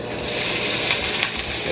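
Pork chop strips sizzle and fry in hot oil in a black pepper stir-fry, a steady dense crackle that holds loud and close throughout with no voices.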